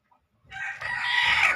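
A native country rooster about two years old bursts into a loud, close crow after a brief silence, the call rising and holding strong to the end.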